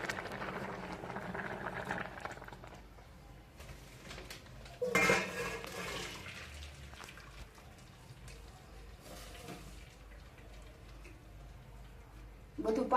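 Cooked rice and water poured into a metal strainer to drain, a steady close wash of splashing and trickling water with a few metallic clinks, a voice speaking over it.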